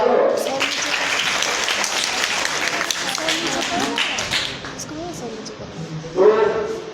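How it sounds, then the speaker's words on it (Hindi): A crowd at a Hindi-language public speech claps for several seconds in a busy, moderately loud patter that tapers away. A voice then cuts in, and talk continues over the fading applause. "अरे थोड़ा ताली भी बजा लो।"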